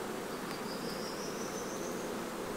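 Honey bees swarm around an open hive with a lid lifted off, making a faint, steady, dense buzz with no voices.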